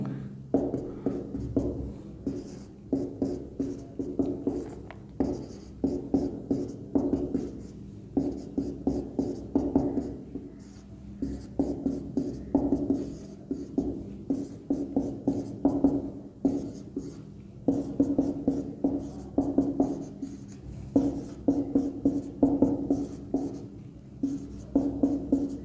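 Chalk or marker scratches steadily across a board as a maths teacher writes out a list of squares up to 40, in repeated bursts of short strokes separated by brief pauses, close and clear with no talk.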